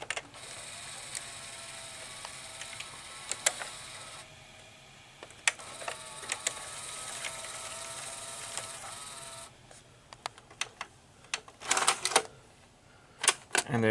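A Daytron VCR-32DAU tape loading mechanism running, similar to a Panasonic design, with whirring motor drone, clicking gears and ratcheting clunks, ending in a few louder mechanical knocks, close up with no talk.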